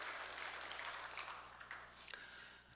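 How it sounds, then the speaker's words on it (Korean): A church congregation claps during a Sunday worship service, faint and fairly distant, with scattered individual claps standing out as the applause thins toward the end. "우리 찬양 받으신 주님께 영광의 박수."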